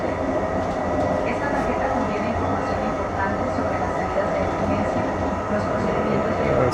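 Steady rumble of a Brightline train rolling along the tracks from Fort Lauderdale to Orlando, a continuous close-up roar with faint voices mixed in beneath it.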